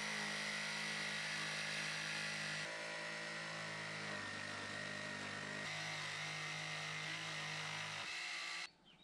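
A Makita jigsaw cuts wood in a barn workshop, a loud, steady buzzing motor drone held for about eight seconds with slight shifts in pitch before it cuts off abruptly.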